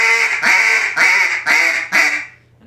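A duck call mimics an old hen mallard's quack: four drawn-out, nasal, raspy notes at a steady pace, loud and close, fading out at the end without any speech.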